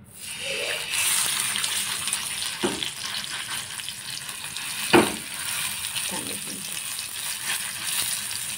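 Fish fries in hot oil in a pan, making a steady, moderate sizzle. A few short clatters and knocks from handling the pan cut through it.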